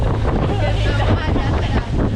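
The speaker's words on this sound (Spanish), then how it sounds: "Nunca había visto el mar de Chichiriviche tan picado." Strong wind buffeting the microphone and rough, choppy sea around a boat during a storm at Chichiriviche, Venezuela, a loud continuous roar with surging waves and talk mixed in.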